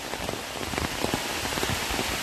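Heavy, dense rain pours down in a forest, a steady close hiss of drops drumming on leaves and an umbrella, with no voices.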